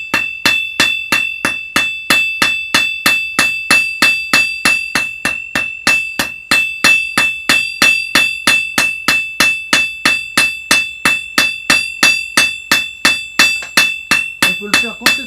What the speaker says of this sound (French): je vais utiliser la partie boule pour donner de la texture à la lame.